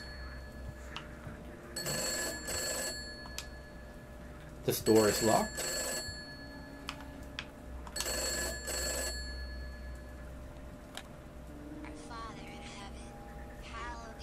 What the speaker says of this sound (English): now the phone is ringing